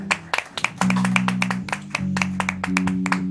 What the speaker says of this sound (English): How about a big round of applause for these guests